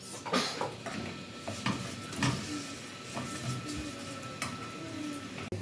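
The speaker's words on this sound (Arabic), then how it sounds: "هنا الشعريه بتحمر اهي" Vermicelli browning in a pot for an Egyptian rice dish, giving a low steady sizzle broken by scattered clinks and scrapes of a spoon against metal, fairly quiet throughout with no talking.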